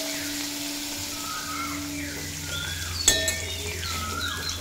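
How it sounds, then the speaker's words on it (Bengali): Paneer pieces frying lightly in hot oil give a steady, even sizzle close by, with one sharp metallic clink partway through as a utensil touches the pan. "পনিরগুলো দিয়ে দেব। দিয়ে পর হালকা করে ভেজে নেব।"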